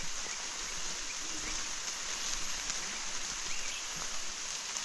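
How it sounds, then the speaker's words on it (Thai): Steady rain hiss fills the scene, a soft continuous wash of falling drops with faint rustling, no voices. "ฝนตก"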